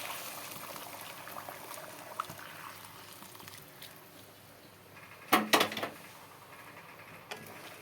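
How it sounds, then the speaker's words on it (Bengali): Heated water goes into a pot of simmering rohu fish curry with fried potatoes, a brief splashing pour in the middle over a faint, steady bubbling, with a light clink of the pot near the end. "দেখো গরম করা জলগুলোকে ঢেলে দিয়েছি"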